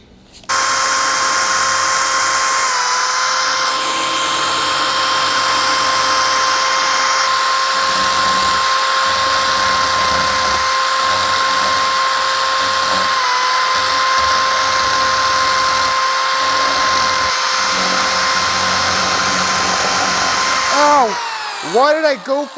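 A router bit spinning in a hand drill, carving letters into a wooden sign, gives a steady high-pitched whine with grinding bite that holds for about twenty seconds and then winds down in a falling pitch as the drill stops.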